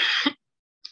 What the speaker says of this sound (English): I'm sorry for coughing regularly.